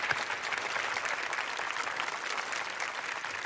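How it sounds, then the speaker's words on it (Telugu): Studio audience bursts into sustained applause at a Telugu television show, a dense steady wash of clapping hands with no voices over it. "సో అలాంటి వాళ్ళ కోసం అంతా ఒక్కసారి క్లాప్స్."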